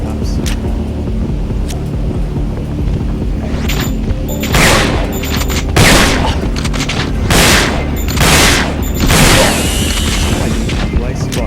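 Shotgun fire in the PS2 game Resident Evil Dead Aim: several loud booming blasts spaced a second or so apart over a rumbling game background.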